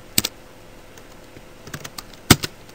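Typing on a computer keyboard while working in Excel: a few scattered, close key clicks, with a quick pair near the start and a louder burst of taps toward the end.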